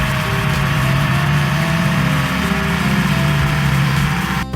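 A loud, steady engine drone runs throughout without pause, a low mechanical rumble with a constant hum, like a tractor motor idling nearby.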